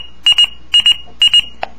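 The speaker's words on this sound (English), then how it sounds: "it will also beep when a tone goes off on either channel" A Motorola Minitor III pager gives its alert tone: three loud, close bursts of paired high electronic beeps in a steady rhythm, ending with one short softer chirp.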